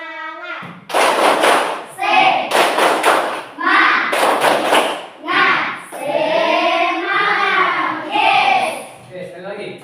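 A classroom of children performs a rhythmic clapping cheer led by one pupil, with bursts of quick claps alternating with loud chanted voices in a repeating pattern, close and energetic.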